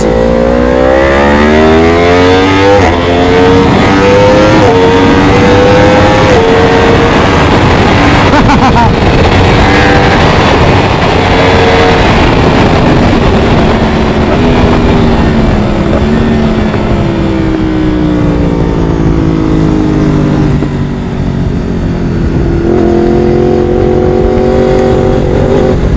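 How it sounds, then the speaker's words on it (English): A 2018 Ducati 1299 Superleggera roars around a race track, its loud engine rising and falling through gear changes with sweeping pitch and steady revving for the whole stretch. "this is his first time riding his Superleggera on the track"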